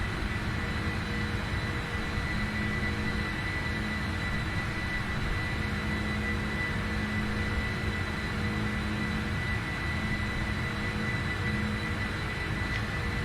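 Steady, loud jet engine roar from a PMDG 747-400F cargo airliner climbing after takeoff in the Prepar3D flight simulator, a continuous drone with a faint tonal hum and no voices.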